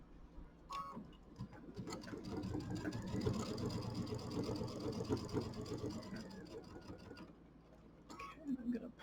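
A sewing machine running a piecing stitch on a Kimberbell mini quilt, a fast steady mechanical whirr with rapid ticking that runs continuously for several seconds, bracketed by brief handling noises.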